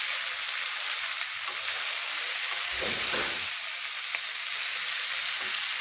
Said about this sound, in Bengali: যে পর্যন্ত কচুর লতার কালারটা ব্রাউন কালার চলে না আসবে এমন করে ভাজতে থাকবো